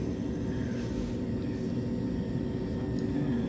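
Airliner accelerating down the runway for takeoff on a first flight, a steady broadband roar of engines and rushing air heard from inside the cabin, constant in level.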